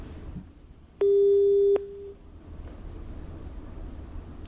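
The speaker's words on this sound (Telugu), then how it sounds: "ఫోన్ లైన్ కట్ అయిందండి" A single steady electronic telephone busy tone after a dropped call sounds for under a second, clear and loud over a low background hum, then fades to quiet room noise.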